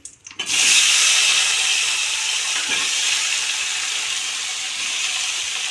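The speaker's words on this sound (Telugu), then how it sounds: "తీసుకున్న తర్వాత టమాటాలు వేసుకుంటున్నాను చూడండి" Tomatoes dropped into a hot pan for coriander chutney burst into a sudden loud hiss that holds steady and close, slowly easing over several seconds after a few soft knocks at the start.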